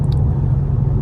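Steady low engine rumble from a car's interior on what is likely its final drive, a continuous drone filling the low end with no talk and no change in revs over the brief moment.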